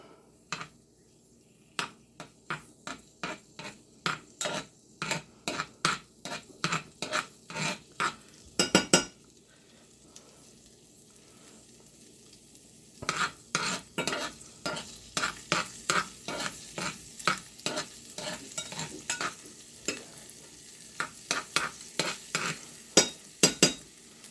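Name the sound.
dhal frying in a pot, stirring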